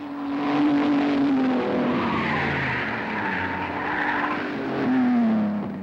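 1966 Gallaher 500 touring cars racing at Bathurst, including Minis, a Valiant and a Studebaker, with loud continuous engine roar and two long tyre squeals as cars brake hard at the bottom of Conrod Straight.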